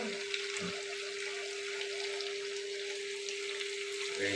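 Hot water pours into a pan of sizzling chicken curry with potatoes, giving a steady hiss and rush of liquid over the frying, with a voice briefly heard.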